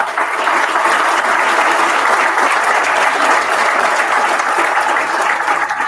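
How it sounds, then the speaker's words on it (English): A large audience applauds steadily and loudly at a sports awards night honoring male and female athletes of the year, dense continuous clapping sustained for several seconds before tapering slightly at the end. "I'd like to give everyone a round of applause for being here tonight."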